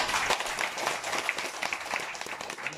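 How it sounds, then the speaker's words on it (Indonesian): An audience gives a round of applause, a thick wash of many hands clapping at steady strength with a few sharper individual claps standing out, no talking. "Berikan tepukan kepada beliau."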